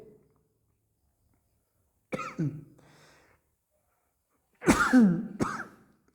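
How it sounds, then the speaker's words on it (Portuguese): A couple of harsh coughs break the silence, then after a pause a louder, rougher bout of two or three coughs with some throat clearing. "desculpa aí que eu tossi aqui"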